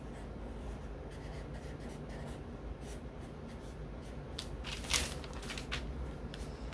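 Hand drawing a leaf design on rug hooking backing: soft, faint scratching strokes that continue steadily and closely, with a slightly brighter stroke near the end and no talking.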